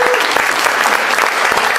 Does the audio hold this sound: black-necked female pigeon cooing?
no